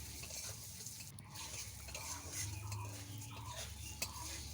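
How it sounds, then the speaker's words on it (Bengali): Gobindobhog rice fries in hot oil and is stirred, a faint steady sizzle with soft scraping strokes and an occasional light tick, close and without talk. "এরপর আমরা গরম তেলে গোবিন্দভোগ চাল দিয়ে ভালো করে ভেজে নেব"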